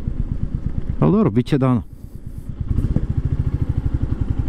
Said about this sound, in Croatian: volim ovako kada se oduzme gaz, kada počne da pucketa i zauspuha